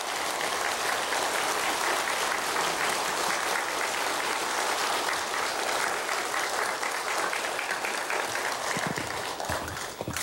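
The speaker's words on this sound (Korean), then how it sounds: "우리 다 뜨겁게 박수로 주께 영광 돌립니다" A Korean church congregation applauding during a worship service, dense and sustained clapping from a large crowd filling the room for about ten seconds, tapering off at the very end.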